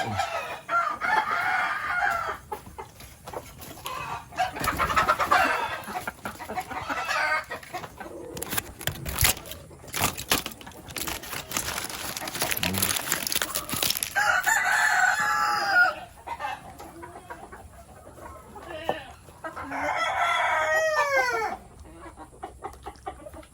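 Native chickens on a farm, roosters crowing repeatedly and hens clucking, loud and fairly close, with scattered knocks and rustling between calls and no talk.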